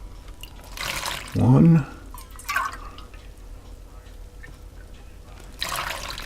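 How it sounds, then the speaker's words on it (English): Milk poured into a dirt cake mixture gives a short liquid splash and trickle of about a second, with a person speaking briefly around it and quiet room sound otherwise. "Now add 2 cups of milk."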